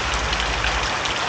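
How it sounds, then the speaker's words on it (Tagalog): Heavy rain pours down during a typhoon in Pangasinan, a loud, dense, continuous patter and hiss heard close by, with no voices. "Kaya tuloy-tuloy yung pag-ulan dito."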